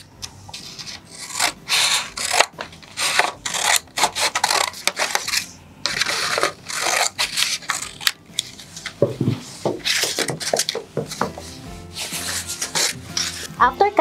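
Scissors cutting a paper plate in half for a children's craft: steady, close, crunchy snipping and tearing strokes in a fast, uneven rhythm, continuing throughout with no talking.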